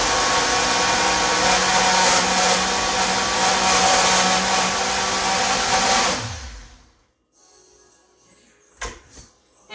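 A juicing machine makes a loud, steady whirring drone for about six seconds, then winds down and stops, leaving quiet with a few faint clicks and knocks.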